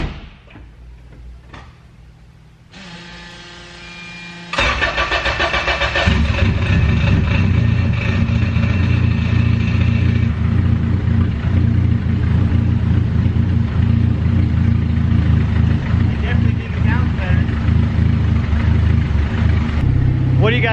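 A Honda Integra with a newly built turndown exhaust cranks and fires up, then settles into a loud, steady idle with a deep rumble close by; short clunks come before the start.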